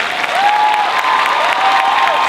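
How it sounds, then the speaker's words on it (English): Audience at a San Diego Comic-Con 2015 Adventure Time and Steven Universe panel claps in a dense, continuous wash of applause filling the hall, with a few faint cheers mixed in. "Hey, bigger applause than that."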